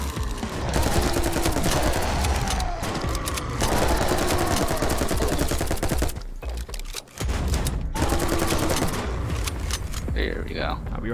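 Rapid bursts of gunfire fill the video game 10 Miles To Safety, with dense automatic shooting nearly nonstop and brief pauses, while players talk over it.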